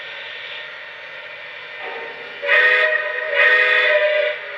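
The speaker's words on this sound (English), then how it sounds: "What a nice whistle." A Lionel Southern Railway 4-6-0 ten-wheeler model steam locomotive sounds its whistle. Two steady, fairly loud blasts ring out over a low background hum, the second slightly longer, with no talking.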